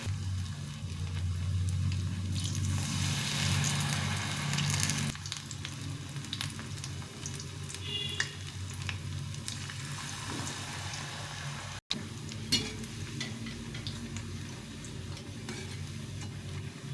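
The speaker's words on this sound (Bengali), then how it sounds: "এভাবে করে আস্তে আস্তে করে ভেজে নিতে হবে একদম কম হিটে লাল লাল করে ভেজে নিতে হবে" Cauliflower pakoras frying slowly in oil over low heat, a steady dense sizzle and bubbling that runs throughout, with occasional clinks and stirring, no talking.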